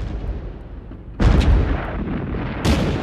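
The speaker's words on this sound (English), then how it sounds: "On the 21st of March, at 4:40 a.m., the German barrage begins." German World War 1 artillery barrage opening at dawn: a low, continuous rumble of distant guns, broken by two loud, deep booming blasts, one near the middle and another toward the end, with no voices.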